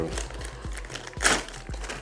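Crinkly rustling of a plastic zip bag holding a travel gas tank bag, several brief crackles with one louder burst, close by under speech.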